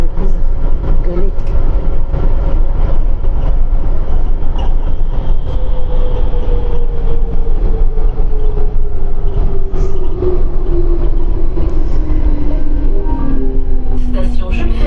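Steady rumble of a metro train riding along the rails, with a slowly falling whine from the motors and faint rattles, loud and continuous throughout.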